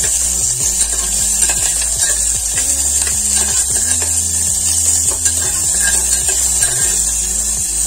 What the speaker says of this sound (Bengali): পেঁয়াজগুলোকে আমি হালকা লালচে করে ভেজে নেব